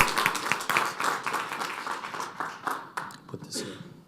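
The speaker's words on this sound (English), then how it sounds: "So let's bring him up with a round of applause." An audience applauds to welcome a speaker onto the stage, with lively clapping close by that thins into scattered, uneven claps and fades out toward the end.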